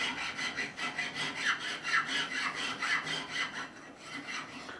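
A hand file rasps across the frets of an Ernie Ball Music Man Silhouette guitar during a refret, making rhythmic back-and-forth strokes, about three per second, steady and close.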